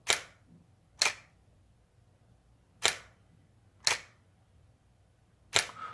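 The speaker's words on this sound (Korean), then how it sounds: "선생님이 여기 카메라 셔터 버튼을 누를 거거든요" Mechanical clicks of a camera shutter button being pressed, five sharp isolated snaps spaced about a second apart with near silence between, close and crisp.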